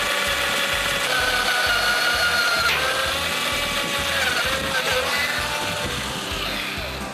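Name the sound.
drilling a hole with 1/8 double ender stub drill bit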